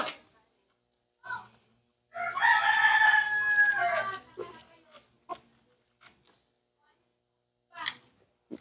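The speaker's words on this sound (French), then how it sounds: "Yeah, fighter rooster." A fighting rooster crows once, loud and close, a drawn-out call with a few short clucks and noises around it and brief voices before and after.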